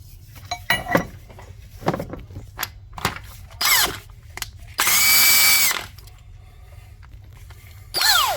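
A power tool with a 10mm Allen bit undoes the cylinder head bolts on a 2011 Nissan Navara D40 YD25 diesel: several short whirring bursts and one longer loud run, with metallic clinks and tool clatter between them.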